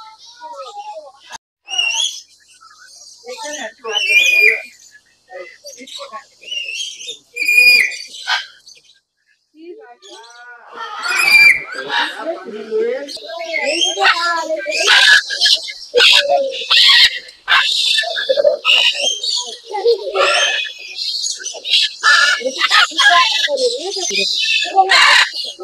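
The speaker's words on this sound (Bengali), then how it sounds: "ফেরার সময় জানি না কেন পাখিগুলো বেশ তারস্বরে চিৎকার করতে শুরু করলো" A crowd of birds at the Harinalaya mini zoo in New Town, Kolkata, screech and chirp loudly in dense, overlapping bursts that build toward the end, with people talking intermittently among them.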